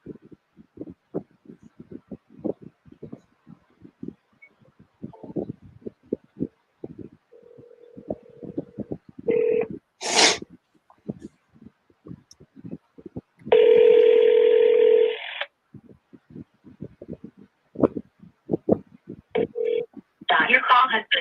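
A phone call being placed: touch-tone dialing beeps and a ringback tone sound between bursts of close speech.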